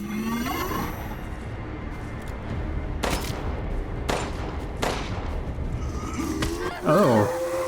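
Gunfire in the Resident Evil Village Shadows of Rose game: three separate sharp shots spaced about a second apart, set among game ambience and a rising whooshing effect, with a player talking over it.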